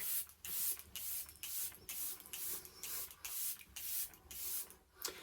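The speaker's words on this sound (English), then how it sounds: "do a airbrush setting spray by Charlotte Tilbury" Charlotte Tilbury Airbrush setting spray comes out in a fast run of about ten short, soft hissing pumps, close and fairly quiet, with brief gaps in between.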